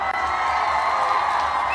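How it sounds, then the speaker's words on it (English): A large crowd at a Pink Dot gathering cheers and claps together, a continuous loud wash of whoops and applause held steady with no clear pauses. "So I want Pink Dot at Hong Lim Park kind of applause."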